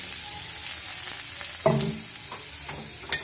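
Grated carrot dropped into hot ghee in a pan, giving a steady close frying hiss with a louder burst of sizzle as it lands and another sharp crackle near the end, with no talking.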